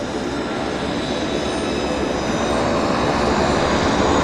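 An airliner taxis past at Vancouver airport, its engines giving a steady loud roar that builds slightly as it draws near, with no talking.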